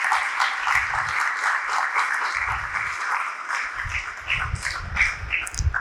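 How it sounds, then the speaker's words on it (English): An audience at the Samarpan Golden Jubilee event applauds, a dense patter of many hands clapping steadily for several seconds, moderately close, with no talking. "We should clap for all 3 of them."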